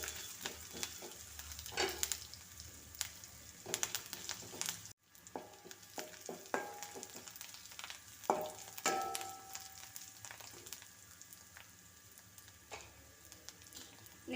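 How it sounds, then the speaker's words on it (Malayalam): Onions and curry leaves sautéing in a pan for a roasted-coconut tomato curry, giving a steady moderate sizzle with scattered stirring clatters and a brief dropout midway, no talking. "ഇവിടെ നമുക്ക് സവാള ഇട്ട് കൊടുക്കാം. ചെറുതായിട്ടൊന്ന് വഴറ്റി കൊടുക്കാം. ഇതിലേക്ക് കറിവേപ്പില ഇട്ട് കൊടുക്കാം."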